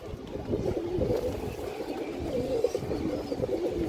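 Large pigeons cooing close by in a loft, soft low repeated coos over a steady background murmur.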